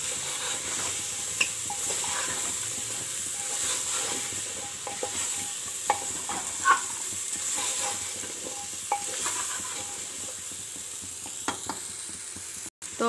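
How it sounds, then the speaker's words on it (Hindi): Mixed vegetable curry (ghanta tarkari) being stirred in a frying pan, a continuous sizzle with scraping spoon strokes at irregular intervals, fairly close and moderately quiet, with a sharp knock near the end. "तो आम भल से मिक्स करदे।"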